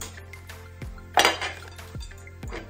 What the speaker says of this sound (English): we're finna put the greens in the pot